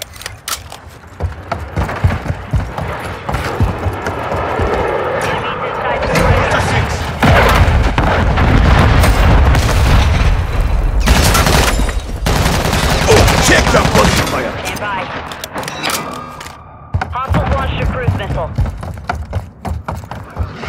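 A grenade blast and heavy gunfire in Call of Duty Modern Warfare III, with sustained bursts of automatic fire, booming explosions and crashing impacts over about twenty seconds, loud and chaotic, with shouted voices breaking through the battle.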